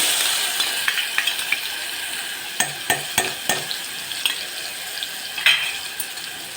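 Ginger, chili and garlic paste hitting hot oil with cumin in a pan, a steady close sizzle and crackle broken by sharp spoon scrapes and stirring clinks.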